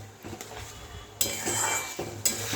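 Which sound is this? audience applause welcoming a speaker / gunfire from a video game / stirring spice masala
stirring spice masala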